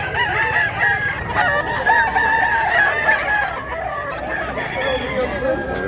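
Several chickens, including a roughly one-year-old rooster offered for sale, crow and cluck in an overlapping chorus at a busy poultry market, with a voice talking faintly underneath.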